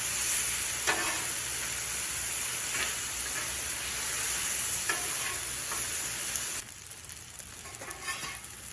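Cajun pasta sizzles steadily on a Blackstone griddle with scraping stir strokes every second or two, loud and close with no voices, the hiss dropping slightly near the end.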